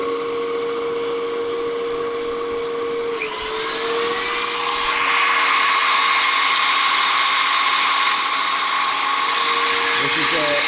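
A 2 kilowatt electric grinder runs steadily with a loud, high whine, its pitch dipping and shifting slightly partway through as if under changing load, continuous and close.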